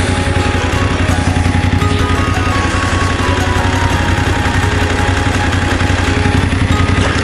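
A Royal Enfield motorcycle engine idles close by with a loud, steady, even thumping throb that holds unchanged throughout, with no talk over it.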